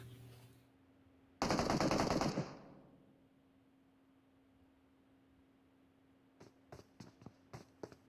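Gunfire in the PUBG Mobile game during a pro league match: a loud, dense automatic burst lasting about a second, then a string of several fainter, sharp single shots.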